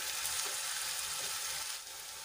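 Chopped onions sautéing in hot oil in a pan for a gram-flour curry, a steady soft sizzle and fry hiss running throughout with no voices.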